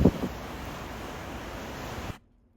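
A glacial waterfall pours into a fjord as a steady broadband rush of falling water, with a brief louder burst at the start, before cutting off abruptly into near silence.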